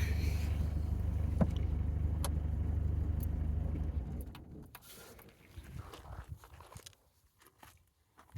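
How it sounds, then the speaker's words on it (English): An old car named Morty idles with a deep steady rumble and buzzing window rattles, then the engine cuts and scattered clicks and rattles trail off into near silence. "Now you can hear, all the windows are rattling."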